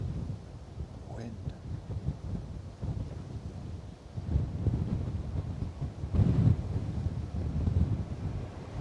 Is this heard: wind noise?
yes